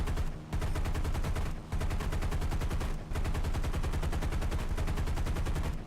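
Sustained machine gun fire from an Avenger bomber in War Thunder rattles in long, loud, rapid bursts with two brief pauses, filling the whole stretch alone.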